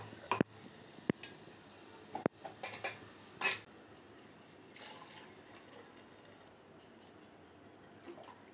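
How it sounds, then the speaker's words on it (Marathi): Buttermilk is poured and stirred into a Konkani takachi kadhi pot. Sharp metal clinks of a spoon against the vessel and splashy stirring are heard early, then a quieter liquid background follows. "आता तयार वाटण घालून त्यात उरलेले ताक घाला आणि चांगले ढवळून घ्या."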